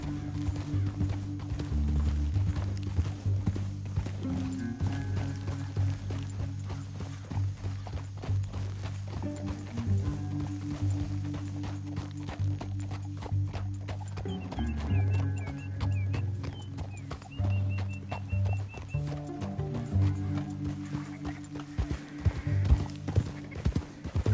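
Steady galloping horse hoofbeats in Red Dead Redemption 2, fast and rhythmic, pound along continuously over a low droning background, with no voices.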